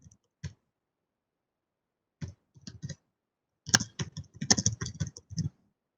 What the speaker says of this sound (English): I'm just typing a couple of questions taken from today's class